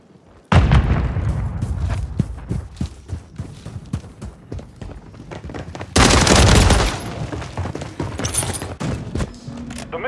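Loud blasts and bursts of gunfire from a Call of Duty MWIII multiplayer match, with a big frag grenade explosion near the middle rising over ongoing shots and game sounds.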